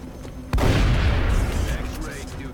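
Shotgun blast in the XCOM: Art of War video game: a sudden loud boom with a long rumbling tail, over a steady game background.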